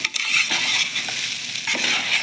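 A spoon stirs soybean and green chili khichdi in a cooking pot, soft scraping and a faint sizzle running steadily for a couple of seconds with no voices.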